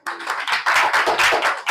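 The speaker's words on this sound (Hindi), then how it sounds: "इनके लिए भी तालियां" Students in a classroom clap together for classmates during a basic math lesson, a dense burst of many hands that starts sharply and keeps going, fairly loud and close, with no talking over it.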